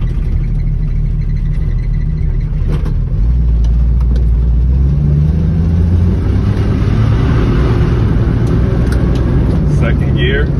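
A classic Ford Mustang with an early C4 automatic transmission held in manual low gear, its engine droning steadily and rising in pitch as it accelerates, loud and close, with engine and road noise throughout.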